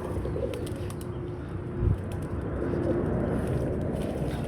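Pigeons coo softly and steadily, a low burbling murmur running throughout at close range, with a brief thump partway through and no speech.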